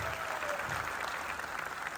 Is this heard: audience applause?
yes